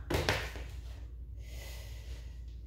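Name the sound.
abdominal breathing demonstration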